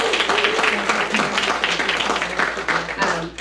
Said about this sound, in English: So just a round of applause for Jeffrey